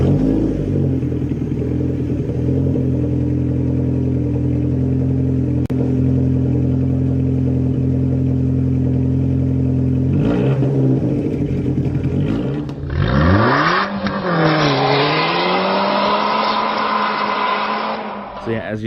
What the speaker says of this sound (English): we also did a resonator delete, and it can really make the car sound a lot cooler